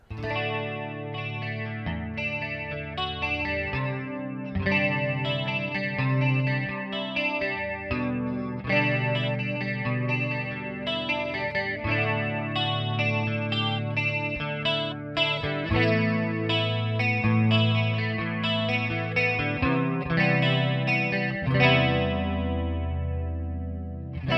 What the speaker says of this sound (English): It's a Roland Jazz Chorus 120.